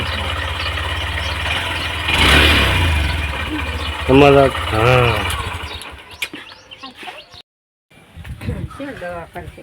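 A motorcycle engine idles with a low rumble, surges briefly, then cuts off partway through while people talk nearby.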